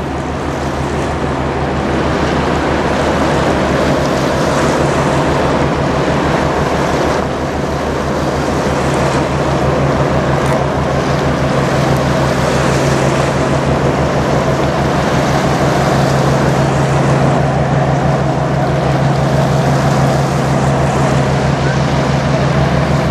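The 1952 bulk carrier freighter Kaye E Barker, 764 feet long, passes on the water where the St. Clair River meets Lake Huron, a broad continuous rumble of engine and wash mixed with wind, steady and fairly loud throughout.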